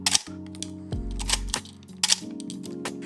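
A Canon A1 35mm film camera with a repaired shutter squeak fires its shutter, giving two sharp mechanical clicks about two seconds apart, each with a quick whirring snap. The sound is close and dry, with no talk.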